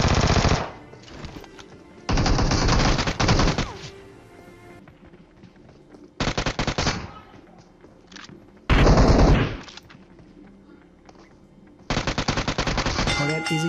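Automatic gunfire from heavy weapons in a video game battle rattles in several long, loud bursts separated by quieter gaps, close and dominant.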